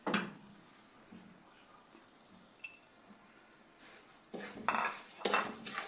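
Sugar being stirred into suji halwa in a pan, with a spoon scraping and clinking against the metal in short bursts near the start and again toward the end, quiet in between.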